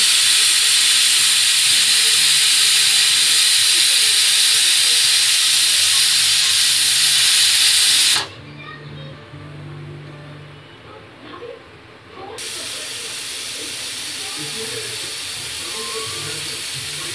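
A pressure cooker cooking mung dal vents steam in a loud, steady hiss that cuts off for a few seconds, then resumes, heard close up.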